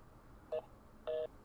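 Touch-tone keypad beeps dial a call to a KFC restaurant: a short tone, a brief pause, then a longer tone, both clear against a quiet line hiss.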